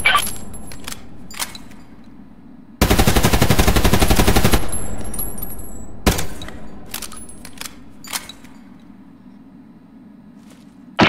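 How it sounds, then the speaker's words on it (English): Hip-fire shooting in the video game Hired Ops: a sustained automatic burst of close, loud gunfire lasting a couple of seconds, framed by sharp single clicks and shots before and after. "In close quarters combat, you have to shoot fast. By firing from the hip"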